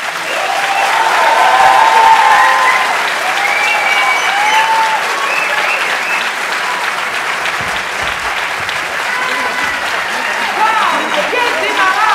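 Audience at a French stage showcase night applauding a group after their performance, loud sustained clapping filling the room, with cheers and voices rising above it at times.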